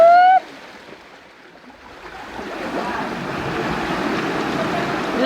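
Rushing water in a rocky stream on a Hong Kong rock-crawling hike, a broad steady roar that starts faint and swells louder and closer over several seconds after a brief whistle-like shout at the start.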